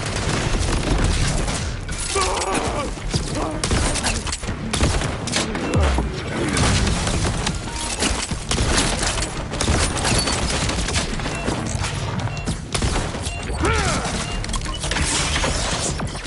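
Dense, continuous gunfire in a Borderlands 4 battle on PS5, with rapid bursts, loud crashes and booms layered throughout, close and relentless from start to finish, with occasional voice fragments mixed in.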